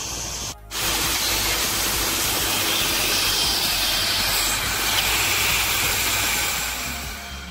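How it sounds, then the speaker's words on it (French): A Bestway Lay-Z-Spa pump motor inflating a round inflatable hot tub, heard as a loud, steady rushing hiss of air that runs unbroken after a short start-up dip, with no talking. "Et après on vient sur le moteur. Donc on va appuyer sur la touche là avec des bulles. Et du coup ça va gonfler le jacuzzi."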